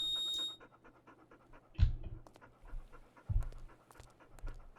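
A dog in the video game Stormworks pants in short quick bursts, heard twice in close succession after a brief whistle-like tone, fairly faint against a quiet game background.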